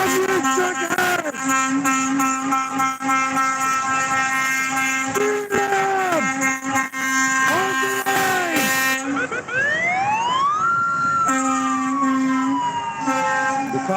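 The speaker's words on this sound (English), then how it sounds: "The cop siren you hear is coming from a truck, not a cop." A loud police-style siren from a truck wails close by, its pitch sweeping up and down in repeated cycles, with blasts of a truck horn mixed in.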